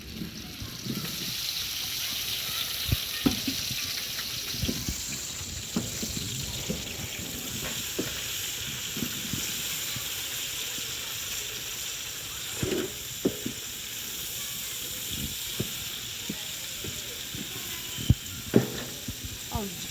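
Chopped peppers frying in hot oil in a home kitchen, a steady bright sizzle running throughout with scattered pops and the occasional clink of stirring.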